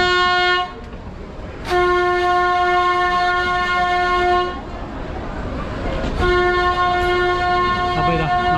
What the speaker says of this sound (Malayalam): ആ ഇതാ ട്രെയിൻ വന്നു